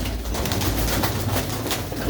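Pigeons kept by a fancier in a loft at Jhurrheri coo softly and steadily, a low murmuring of several birds close by with no talk over it.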